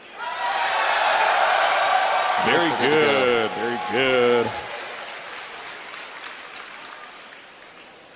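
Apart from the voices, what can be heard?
crowd cheering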